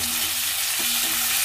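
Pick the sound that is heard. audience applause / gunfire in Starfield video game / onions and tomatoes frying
onions and tomatoes frying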